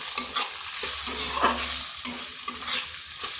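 Cumin, coriander, chili and turmeric powders fried with tomato in a pan, stirred in short scraping strokes over a low sizzle, close and fairly loud, with a few utensil knocks.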